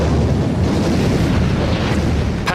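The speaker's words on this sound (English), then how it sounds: "200 ships bombard 50 miles of the Normandy coastline." Naval bombardment of the Normandy coastline by battleships, cruisers and destroyers, heard as a continuous loud, rumbling roar of distant heavy gunfire with a sharper crack near the end.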